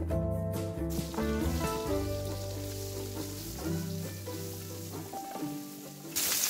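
Onion fries in oil in a very hot pan with a strong, continuous sizzle and crackle, close by, while quiet music plays underneath.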